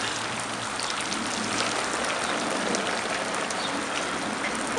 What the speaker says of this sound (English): Do you guys feel that rain? I think it's raining.